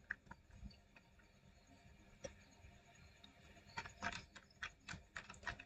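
Someone types on a computer keyboard to search for logos: scattered soft key taps at first, then a quicker run of clustered clicks toward the end, close and fairly quiet.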